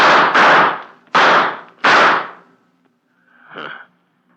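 Radio-drama gunshot sound effects: three sharp close cracks in quick succession, then a fainter, more distant report after a short pause.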